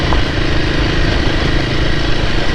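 Royal Enfield Himalayan 450 motorcycle engine chugs steadily while riding, a loud, continuous low rumble blended with heavy wind noise, with no talk.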